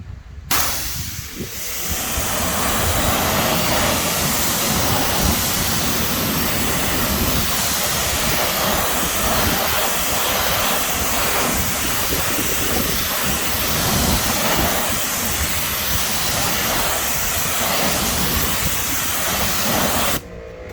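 A steady, loud hissing spray runs almost unbroken for about twenty seconds as a pressure washer rinses cleaner off a car wheel up close.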